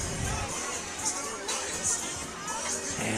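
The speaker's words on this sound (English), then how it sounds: "There's a great crowd on the home side" Crowd at a high school football game in Wynne, a steady distant hubbub of many voices and chatter filling the stadium, with occasional louder swells and faint shouts.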